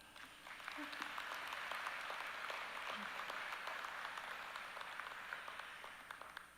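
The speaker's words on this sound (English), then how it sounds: "Give yourself a round of applause." A convocation audience applauds, many hands clapping together in a sustained, even burst that rises quickly and fades slightly near the end.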